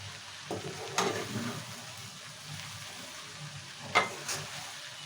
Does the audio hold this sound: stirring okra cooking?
yes